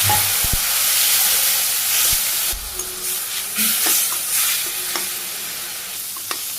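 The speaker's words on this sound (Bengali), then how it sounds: "পেঁয়াজ ভাজি হয়ে গেছি শাক দিয়ে দিই" Leafy greens go into a pan of fried onions, cumin and green chilies, producing a loud, close sizzle with a rush as they land, followed by scraping stirs and spoon taps against the pan.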